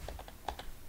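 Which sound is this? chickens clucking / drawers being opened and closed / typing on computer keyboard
typing on computer keyboard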